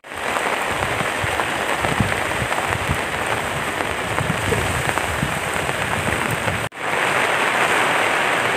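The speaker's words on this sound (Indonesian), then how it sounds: "Wis grimis lho. Oh, grimis ya." Light drizzle of rain falls steadily in misty mountains on the Watu Lunyu route up Mount Sindoro, a continuous soft patter that briefly cuts out near the end and then resumes.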